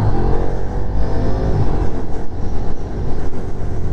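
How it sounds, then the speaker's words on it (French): A Ducati Diavel V4 motorcycle engine revs loudly and close, a dense, rumbling, continuous roar with pulsing throttle changes and exhaust note blended in, heard alone without talk. "Le moteur a plus un bruit de V2 du coup. Il a le même bruit que la Street Fighter V2."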